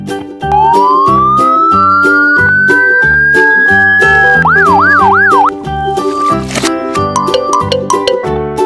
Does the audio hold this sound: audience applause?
no